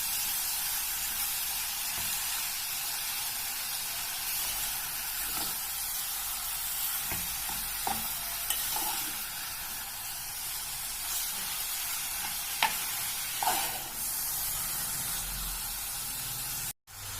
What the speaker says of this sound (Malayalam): ഉള്ളി ഇട്ട ശേഷം നമുക്കിത് ഒന്ന് വഴറ്റിയെടുക്കാം.